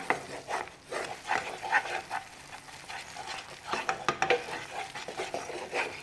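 Hot ghee goes into besan for Mysore pak while a spoon stirs the pan, producing soft sizzling and repeated scraping strokes, close and fairly quiet, with faint talk now and then.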